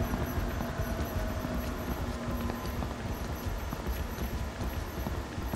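Footsteps clatter steadily on stairs in the horror video game DreadOut, a muffled, rhythmic run of hollow clip-clop steps over a continuous noisy background with no talk.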